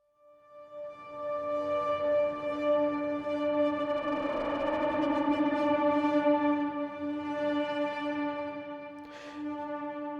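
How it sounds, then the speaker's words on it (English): The Ambition lead synth from the Sound Yeti library, a sustained bright harmonic tone that swells in softly, starts static and then grows a wobbly, shimmering modulation, with reverb-soaked echoes and a brief noisy accent late on. "I have an ambition lead here"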